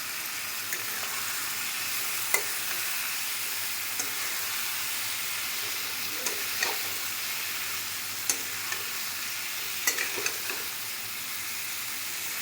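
Brinjal fries in masala in a pan, a continuous close sizzle with scattered clicks and scrapes as a spoon stirs it, holding steady for over twelve seconds without talk.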